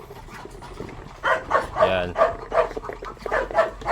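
A dog barks angrily at Muscovy ducks: a quiet first second, then a run of loud, close, rhythmic barks, with a person briefly speaking.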